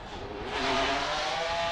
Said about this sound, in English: You can hear that signature exhaust note.